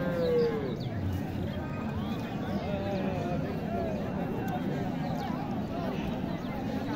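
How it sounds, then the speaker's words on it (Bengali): A Sahiwal–Holstein Friesian cross cow moos at a busy cattle market, one long low call near the start, with steady crowd chatter and other livestock noise filling the background throughout. "এখানে একটি শাহিওয়াল এবং হলস্টেইন ফ্রিজিয়ানের ক্রস গরুটি।"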